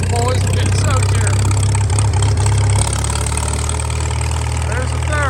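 An antique tractor engine runs steadily at a low, rumbling idle, loud and close, easing slightly in level partway through as it is throttled down, with someone talking over it.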